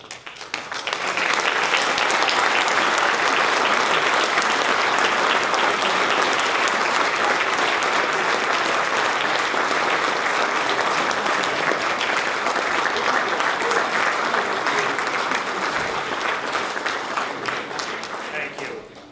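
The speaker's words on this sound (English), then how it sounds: "let's give a round of applause to everybody in the audience who teaches, did teach, at any level" A large standing audience at a community breakfast honoring Martin Luther King Jr. claps loudly and continuously for about nineteen seconds, a dense even wash of applause that swells quickly and tapers slightly at the end.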